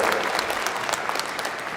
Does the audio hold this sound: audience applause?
yes